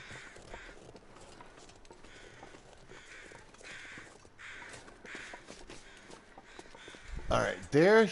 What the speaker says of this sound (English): Alright, there's some crows.